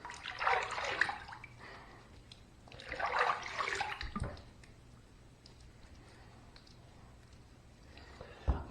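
Warm tap water runs in two separate bursts of about a second each while rinsing a freshly shaved head over a sink, close and soft, with quiet pauses and small clinks between.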